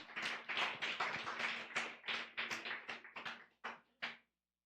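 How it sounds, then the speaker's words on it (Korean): A congregation in a church claps in steady applause, fairly close and moderately loud, fading out in a few final bursts before ending. "나오실 때 큰 박수 부탁드립니다."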